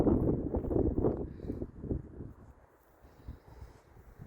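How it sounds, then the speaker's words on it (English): Strong wind buffets the microphone outdoors on a UK market farm after a storm, with low rumbling gusts that are loudest at first and then ease to a quieter rush. "it's been so windy"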